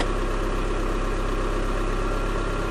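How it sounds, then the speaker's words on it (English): A car engine idling steadily after a battery replacement, a constant, loud, even rumble close by with no variation and no voices. "And turn the engine off."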